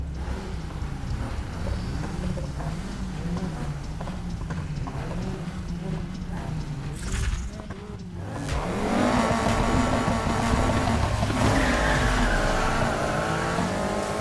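In the Need for Speed Heat racing game, a car's engine drones steadily and surges as it accelerates, ending in a higher, louder pull with faint tire noise, over game music.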